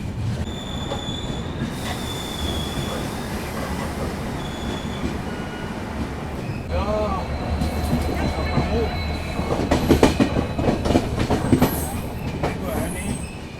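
The Agartala Tejas Rajdhani Express rolls through a railway junction station in India, loud and close, with constant rumbling, rhythmic wheel clatter and high squealing from the wheels that swells toward the end.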